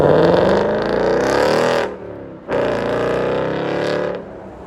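A 2020 Ford Mustang GT's 5.0L V8 roars loud and close through an aftermarket exhaust, revving hard, dropping off briefly near the middle, then surging again in a sustained rumbling blast.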